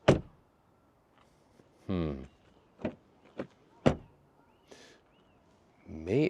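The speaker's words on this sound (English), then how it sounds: "And door closing sound." BMW car door being shut during a 3 Series versus 5 Series comparison, heard as several short solid thunks and latch clicks spaced apart, with a longer rustling mechanical sound between them, fairly close.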